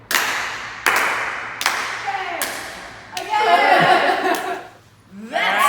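A few sharp, evenly spaced hand claps from the Norwegian clap hand-clapping game, played at a safe distance apart, followed by a brief burst of laughter and a short spoken word.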